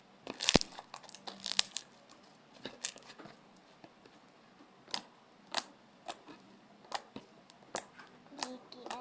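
Crunchy, fluffy slime is squeezed and squished by hand close up, giving sparse crackling pops and crinkly snaps in irregular bursts over a quiet background.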